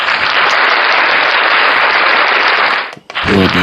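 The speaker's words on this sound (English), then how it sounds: "Let's get some round of applause up in here." Dense, loud round of applause from a podcast studio audience, steady clapping filling nearly three seconds before briefly dipping and giving way to a voice.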